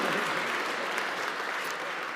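An audience at Governor Whitmer's signing of Michigan's clean energy bills gives a brief burst of applause, steady and full from the start and easing off slightly toward the end.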